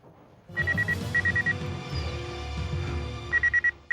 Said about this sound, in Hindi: घंटी तो अभी भी बज रही है।